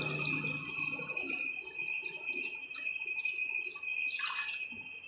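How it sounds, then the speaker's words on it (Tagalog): A glass of water poured into a pressure cooker while adobo is being cooked, a thin steady splashing stream with a faint ringing tone, close and quiet, with no talking. "Maglagay tayo ng ating isang basong tubig."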